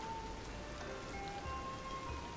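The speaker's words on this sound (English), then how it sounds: "God, why does it have to rain?" Steady rain patters continuously in the video game Tears of the Kingdom, an even hiss of drops with a faint tonal game ambience underneath and no voices.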